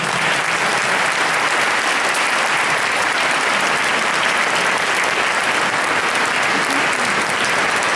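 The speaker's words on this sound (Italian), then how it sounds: "un altro grande applauso" Audience at a gospel concert applauding loudly and steadily for the full stretch, a dense wash of clapping with no break.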